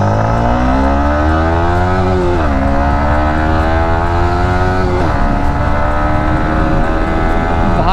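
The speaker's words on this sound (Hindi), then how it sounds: "सबसे पहले तो यार बाइक को लॉन्च करते हैं" A Yamaha MT15 motorcycle engine revs hard on a highway and climbs through the gears, its pitch rising in long sweeps with brief dips at each shift, loud and close.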